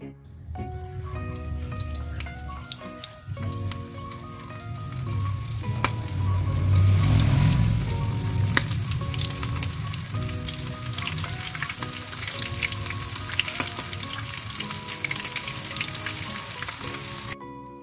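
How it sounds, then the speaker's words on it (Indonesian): Breaded prawns coated in breadcrumbs deep-fry in hot oil with a loud crackling sizzle that swells as they go in, then settles into steady bubbling, punctuated by clinks and stirring. "siap kita goreng ya."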